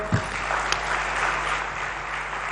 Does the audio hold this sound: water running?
no